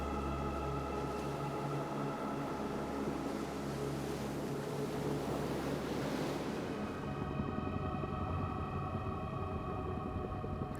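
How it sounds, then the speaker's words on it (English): Ocean waves break steadily on a beach on the coast of Cozumel, Mexico, a continuous full wash of surf with wind noise buffeting the microphone and no voices. "Waves and currents carry the skeletons ashore"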